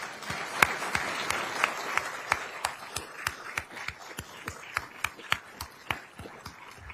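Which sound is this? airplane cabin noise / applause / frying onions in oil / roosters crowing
applause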